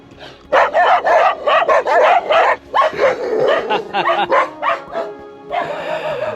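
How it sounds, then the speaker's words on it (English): A friendly dog near a garden villa gives a rapid series of loud, close yips and barks mixed with whimpers, in bursts with short pauses, ending in a longer whining yelp. "Very friendly dog."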